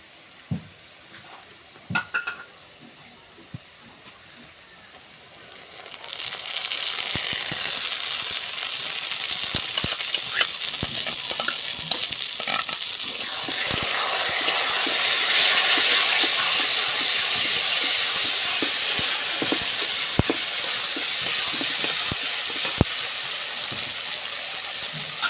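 Onion fries in a pan, opening with a few quiet clinks and scrapes before a loud, continuous hiss of sizzling oil takes over and holds steady, dotted with occasional utensil taps.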